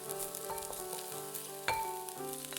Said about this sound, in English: Then add 1 teaspoon of Sichuan peppercorn and 1 star anise. Again, stir fry for 10 seconds to release aroma.